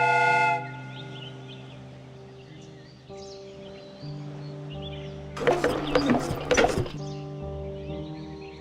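A mechanical replica train in a Sherlock Holmes game, heard as sustained tonal whistle-like drones and hums with a burst of clattering, hissing mechanical noise in the middle, then steady tones again, with no speech.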